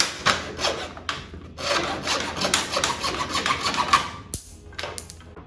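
Wooden pegs being sawn by hand for a wall easel, a steady series of close rasping strokes with brief pauses between cuts.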